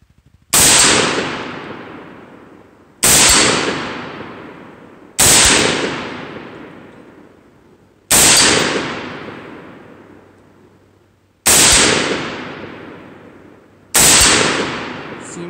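Six loud, close gunshots ring out a few seconds apart, each sharp crack trailing into a long decaying echo, fired with a Feyachi brass catcher attached to collect the spent shells.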